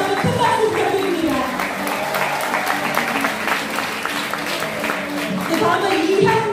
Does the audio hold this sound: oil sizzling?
no